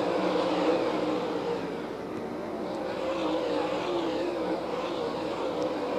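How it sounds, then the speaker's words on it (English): Race cars lapping a banked track during the A Main of the Commonwealth 100, a steady distant engine roar that swells and fades slightly, with no clear voices. "Madden drifted up the bank, and Davenport went right by him"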